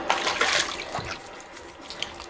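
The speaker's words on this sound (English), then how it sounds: "Let's rinse off, see where we're at." Water runs and splashes in a steady wash as a Timeless razor is rinsed after shaving with Shulton Old Spice, with brief louder bursts near the start and no talk.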